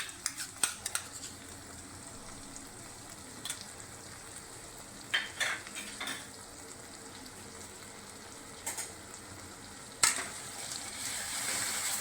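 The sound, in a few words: garlic paste frying with tomatoes in pan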